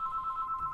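Electronic telephone ring from the horror game Alien: Isolation, a steady pulsing single-tone trill, fairly faint, heard alone without speech.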